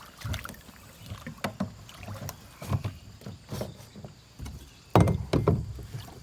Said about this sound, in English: We're going to turn the kayak sideways.